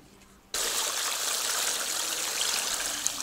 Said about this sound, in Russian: сейчас это теплой водичкой заливаем и отмачиваем